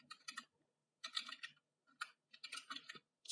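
Close, quiet clatter of keys on a computer keyboard comes in three or four quick bursts separated by short pauses, with no talking over it.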